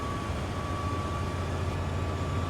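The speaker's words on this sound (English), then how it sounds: "Here come the Vectrons coming up to the corner as well." Vectron locomotives in notch 8 climb a grade past apartments, making a steady, moderately distant diesel drone with a constant whining tone and no break throughout.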